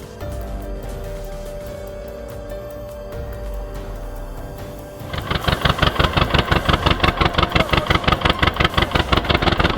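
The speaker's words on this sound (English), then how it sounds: "Engine still running, smart move," A tractor engine stuck in a water crossing, first a steady low rumbling idle, then after about five seconds a louder, rapidly pulsing throb as it is revved hard, close and alone.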